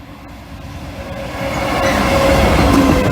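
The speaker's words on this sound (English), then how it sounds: "Train." A train rolls past close by on the East Coast Main Line diversion via Lincoln, its rumble building steadily louder with faint wheel squeal and rattling.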